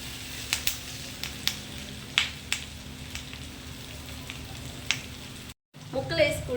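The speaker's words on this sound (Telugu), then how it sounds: "ఈ కంద ముక్కలు 5 మినిట్స్ అనేది ఈ ఉల్లిపాయతో పాటు వేపుకోవాలి" Elephant foot yam (kanda) pieces frying with onions in a pan, a low steady sizzle punctuated by sharp, distinct pops and clicks, ending in a brief cut and a louder burst of stirring.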